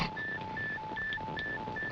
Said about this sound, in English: MR4's bleep still loud and clear